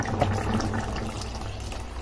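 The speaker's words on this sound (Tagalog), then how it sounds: "Tulad nito, pwede natin dagdagan ng tubig yan." Water is poured into a pot of rice porridge (lugaw) as it cooks, giving a short, close splashing and gurgling fill that stays moderately loud and then eases off.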